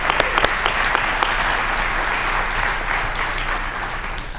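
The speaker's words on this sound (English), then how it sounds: "let's give all of each other a round of applause" Audience applause at a Special Olympics Michigan Hall of Fame and award banquet, dense steady clapping from a crowd that fades slightly toward the end.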